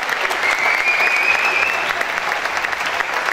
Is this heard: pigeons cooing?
no